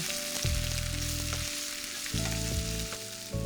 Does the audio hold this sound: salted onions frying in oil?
yes